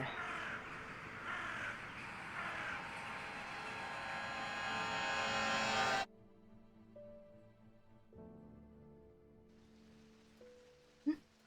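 Harsh ravens caw in the video game Strange Antiquities over a rushing, rain-like wash for several seconds, then the noise cuts out, leaving soft sustained tones and one sharp click.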